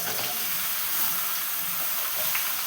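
About a kilo of vegetable pieces hit hot tempering oil in a pan, giving a steady, close, continuous sizzle and hiss with no talking.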